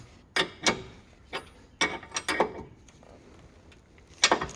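Ratchet wrench tightening a lower control arm bolt on an AWD Dodge Charger, heard as several short, sharp clicking bursts in quick sets with pauses between, close and fairly loud, no talking.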